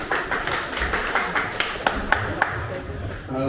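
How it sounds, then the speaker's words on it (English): A small live event crowd gives a short burst of applause for a presenter, scattered claps forming a quick ragged patter over a few seconds, with a voice also heard. "Applause for Michael."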